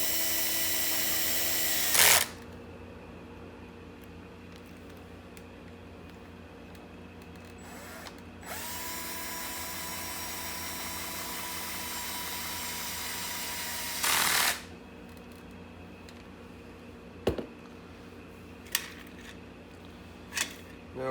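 A power tool drives screws back into a Traxxas X-Maxx RC truck: sustained whirring runs of a drill-type driver, loud and close, broken by pauses and followed by a few sharp knocks.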